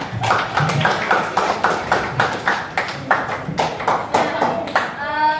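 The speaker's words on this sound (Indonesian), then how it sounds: "Tepuk tangan untuk kita semua." Students in a classroom clap for everyone, a rhythmic run of roughly unison claps with distinct beats, close and loud, ending as a voice begins speaking.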